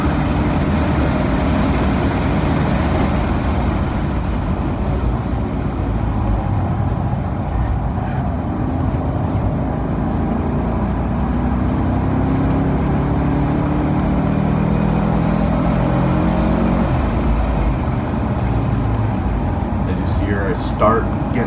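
Car driving fast down the back straight of a Utah race track during a track day, a loud steady engine roar with broadband road and wind noise that holds throughout.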